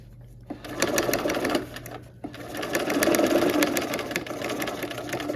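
A domestic sewing machine stitches fabric in quick rapid bursts, pausing briefly between runs, close and clear with a steady motor hum underneath.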